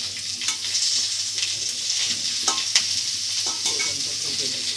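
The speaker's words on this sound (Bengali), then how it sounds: "এবার বেগুনটাও ভালো করে ভেজে নিব। নাড়াচাড়া করে ভালো করে।" Eggplant fries in oil in a pan alongside already-fried potatoes for a village-style tengra fish curry, with a steady bright sizzle and repeated scraping strokes of a spatula stirring the pieces.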